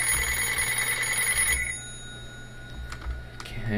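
A phone rings in a video game, a loud shrill buzzing ring for about a second and a half that then cuts off, leaving quieter game sounds.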